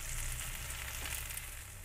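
Garlic and shallots fry in a little oil for sambal, a steady close hiss and crackle of sizzling that runs continuously with no talk.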